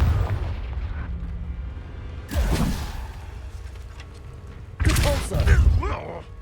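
Two heavy booming blasts from the Confringo fire spell in Hogwarts Legacy, spaced a few seconds apart, each loud and rumbling with crackling debris over a low ambient game background.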